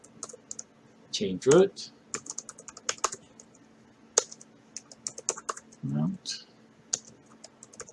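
Commands are typed on a computer keyboard during an Arch Linux install in VirtualBox, heard as quick, light clicks in short bursts, close and fairly quiet, with someone speaking between the keystrokes.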